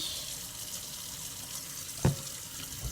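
Water runs from a tap into a sink as a steady, hissing rush, broken by one sharp knock near the end.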